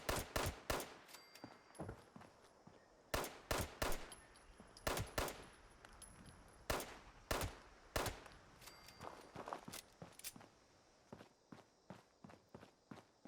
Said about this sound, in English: Gunfire? Gunfire.